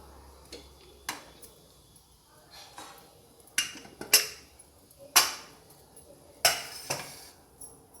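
Clinks and knocks of a metal pressure cooker lid being opened after cooking huggi, a sweet rice dish, in a home kitchen; several sharp separate clanks over a quiet background.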